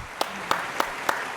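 Evenly spaced sharp claps, about five in a row at a steady rhythm, fairly close against a quiet background.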